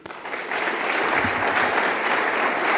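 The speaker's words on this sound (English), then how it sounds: "I started the applause a second too early" Audience applause at an awards ceremony, a dense, steady wash of many hands clapping that swells after a brief quiet start and holds loud to the end.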